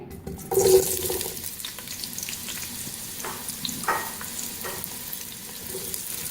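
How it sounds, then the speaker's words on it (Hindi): Apple gourd (tinda) pieces frying in about a quarter cup of hot oil over a medium flame, a steady close sizzle with a louder burst near the start and occasional stirring scrapes, no talking. "टिंडों को फ्राई करना स्टार्ट करते हैं"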